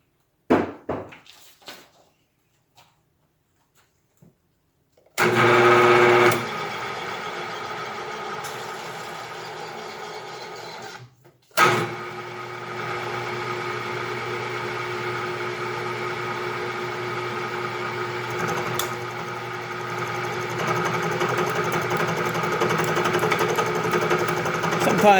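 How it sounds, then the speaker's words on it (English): Milling machine with a belt that does not seat properly in its pulley groove: after a few knocks and a short burst, a steady motor hum with a high whine settles in, close and continuous, ending in a slight rise. "The belt doesn't quite fit in the groove, I don't think, and it makes that funny noise."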